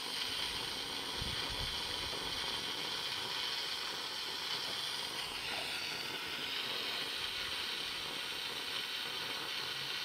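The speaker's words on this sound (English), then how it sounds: "a tiny, tiny blowtorch. Yeah, it's really handy, actually. And obviously it's gas powered." A tiny gas-powered blowtorch hisses steadily at close range while soldering wires on a boat's electrical work, a continuous broad rushing hiss with faint mechanical ticks underneath.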